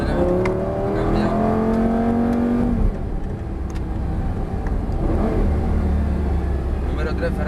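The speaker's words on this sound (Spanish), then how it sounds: "número 3 Ferrari, acelera, sale por la derecha, cambia" A Ferrari race car accelerating on a track during a GT driving experience, a loud steady engine drone with tones climbing through gear changes, then dropping to a rougher rumble, with people talking over it.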